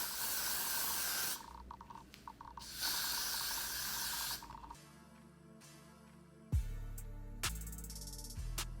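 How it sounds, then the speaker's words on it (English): Two long hissing bursts of Got2b hairspray sound up close, separated by a short break, followed by quieter background music. "spray it on the hairline again."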